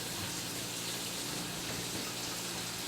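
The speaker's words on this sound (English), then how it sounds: "take this over to the sink and wash this stuff off several times with some cold water" Cold tap water pours steadily into a kitchen sink as vegetables for a hot giardiniera relish are rinsed, a constant gushing splash without break.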